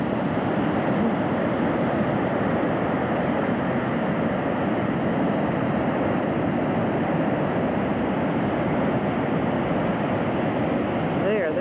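Ocean waves break steadily along the California shore in a continuous roar of surf that stays loud and broadband throughout, with no gaps between swells.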